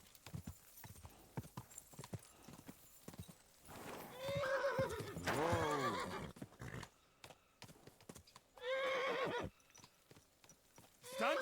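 Horse hooves clip-clop steadily while the animal lets out two loud, close whinnies, one mid-way and another near the end.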